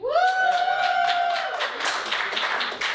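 A game show studio audience bursts into applause after a tonal sting fades, the clapping dense, steady and fairly loud, filling the room without talk over it.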